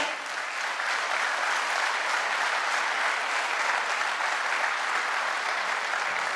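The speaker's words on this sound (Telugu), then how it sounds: "మీ అందరు పేరెంట్స్కి హార్ట్ నుండి గట్టిగా క్లాప్ చేయరండి" An indoor audience claps for their parents in a sustained, dense round of applause that holds steady and loud for several seconds.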